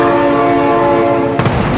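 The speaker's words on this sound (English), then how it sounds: "my god, train!" A train horn blares steadily over the loud rumble of a passing train in the BeamNG driving game, continuous and close throughout, with a brief clatter near the end.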